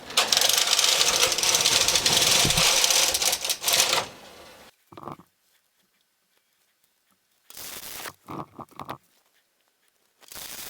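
A Brother knitting machine carriage knitting a pattern rattles loudly and mechanically in a long pass, then short clattering bursts follow between quiet pauses, with no talking.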